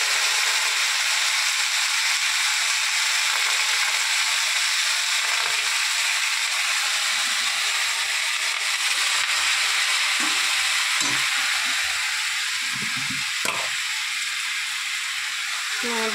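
Leafy greens sizzling in a hot frying pan with oil, a steady, loud, hissing fry that continues throughout, with faint scraping and stirring clatter near the end.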